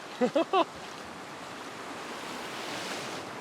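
Small waves breaking in knee-deep surf off a beach near a reef, a steady wash of water and wind noise that stays fairly even throughout, after a few short tonal sounds at the start.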